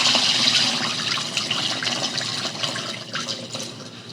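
Starchy rice wash water pours off steadily in a loud, continuous splashing stream, close up and alone, easing slightly toward the end.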